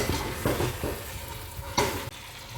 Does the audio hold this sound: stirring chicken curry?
yes